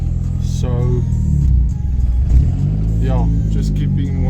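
A 1.8T engine in an Audi A4 B7 with an engine problem hums and rumbles steadily while the car is driven. Someone talks over the continuous mid-pitched drone throughout.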